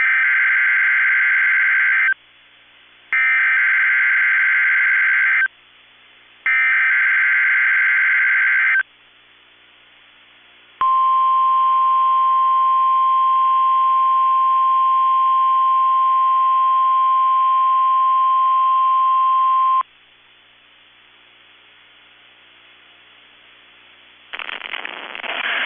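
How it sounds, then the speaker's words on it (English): EAS weather radio warning broadcast from Minnesota: three loud bursts of the harsh two-tone attention signal, a pause, then a long steady single-pitch alarm tone held for about nine seconds, ending in quiet and a faint noise. "has just activated the warning alarm on 13 weather radio stations across central and southern Minnesota"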